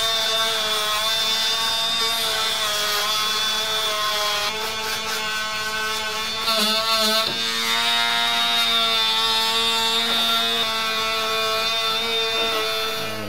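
A power saw cutting through a steel pre-hung door frame, a loud sustained whine with a strong tonal pitch that shifts slightly as the blade bites, running steadily throughout with brief dips in load.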